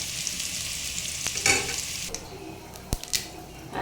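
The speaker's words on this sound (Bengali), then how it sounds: "আর এদিকে করলা ভাজি।" Bitter gourd slices fry in a pan with a steady broadband sizzle, broken by a few louder stirring scrapes and clinks against the pan; no talking.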